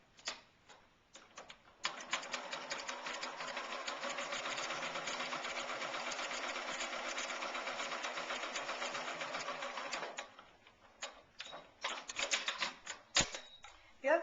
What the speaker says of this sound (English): So I'm just stitching down one side of the ribbon.